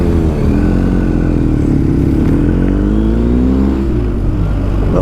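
Loud, close engine drone from a motorcycle ride on a road trip, with a steady rumble and rising, shifting engine tones as the bike accelerates, plus broadband wind and road noise, with no talking.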